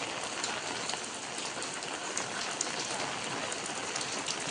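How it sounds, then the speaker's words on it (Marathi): Heavy early-season rain falling in a Konkan village, a thick unbroken hiss of drops striking surfaces, close and steady throughout with no voices. "एकदम भारी वातावरण केलंय पावसानं"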